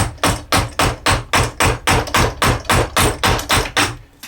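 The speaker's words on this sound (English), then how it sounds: "hitting a chisel through a piece of wood in this direction is pretty damn hard" A mallet drives a chisel into the end grain of wood clamped in a Stanley Hobby vice (STA183069), about fourteen loud, sharp, evenly spaced blows in quick succession.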